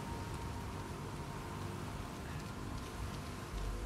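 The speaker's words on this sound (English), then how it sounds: "That rain is gorgeous." Rain in the Uncharted 4: A Thief's End shipwreck stage, a steady, dense hiss of heavy downpour with a low rumble underneath, even and unbroken throughout with no speech.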